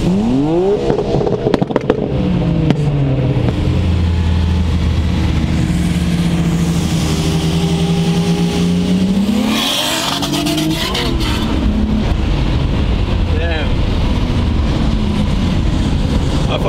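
A Nissan R32 GTR running an RB30DETT engine, heard from inside while driving, with loud engine drone rising and falling through revs and gear changes, steady and close throughout.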